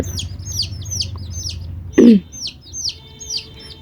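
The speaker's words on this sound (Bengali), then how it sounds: "এগুলা হচ্ছে টাইগার মুরগির বাচ্চা এই যে টাইগার মুরগির বাচ্চা" Tiger breed chicks cheep in a rapid, repeating series of high chirps, close by, with one lower cluck breaking in midway and no one talking.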